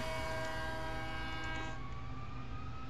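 A locomotive in Train Simulator 2019 starts moving, giving a steady, dense engine drone with sustained tonal horn-like layers, loud and continuous, with no talk.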